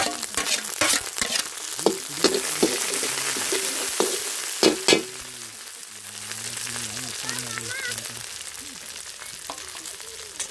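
Dried chillies and coriander leaves fry in a pan under a steady crackling sizzle, with sharp stirring scrapes and knocks scattered through. A voice speaks faintly in the background.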